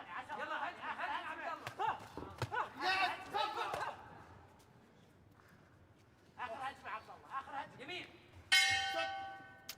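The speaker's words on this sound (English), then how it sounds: "There goes the bell." A boxing ring bell rings at a youth world championship bout, a bright clanging ring near the end, following crowd chatter and a commentator talking.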